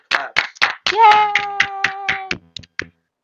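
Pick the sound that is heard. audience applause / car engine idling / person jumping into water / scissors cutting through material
audience applause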